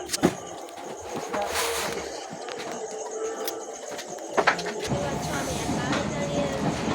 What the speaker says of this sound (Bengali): তো এরপরে আবার ট্রেন চলা শুরু হলো